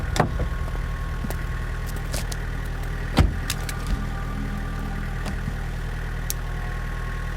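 A car engine runs steadily with a low, constant rumble, broken by a few sharp clicks and knocks, with no voices.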